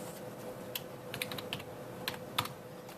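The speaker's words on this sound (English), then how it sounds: "So what I'm going to do again is type in my name" Typing on a computer keyboard while entering a name as text in Adobe Illustrator, with scattered quick keystroke clicks in short bursts over a quiet room hum, no voices.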